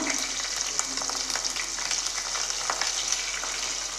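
Garlic and ginger fry in coconut oil with fenugreek, producing a dense, even crackling sizzle at close range with small pops scattered through it and no speech.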